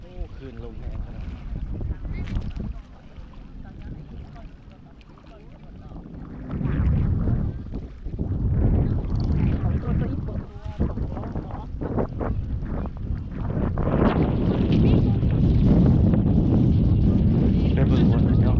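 Strong evening wind gusts along the Mekong riverbank in Vientiane, roaring and buffeting the microphone loudly in uneven surges that build toward the end, with a voice speaking briefly amid the noise.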